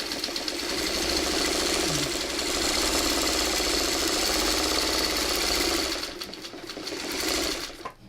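A sewing machine stitches a quilt block in a fast, steady mechanical whir that runs close and continuous for several seconds, then slows and pauses briefly before starting up again.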